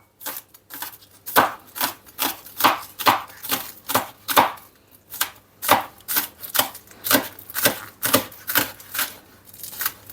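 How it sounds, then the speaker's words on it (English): A knife chops spring onions on a board in quick, crisp, evenly spaced strokes, about two per second, close and clear with no talking over it. "just going to cut up some spring onions"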